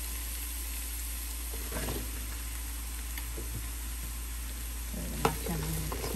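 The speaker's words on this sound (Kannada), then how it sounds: "ಕಟ್ ಮಾಡಿರೋ ಬೆಂಡೆಕಾಯಿ ಹಾಕ್ತಾಯಿದ್ದೀನಿ." Cut okra goes into a pan of softened onions and sizzles steadily, with soft stirring scrapes and a sharp utensil tap near the end over a constant low background hum.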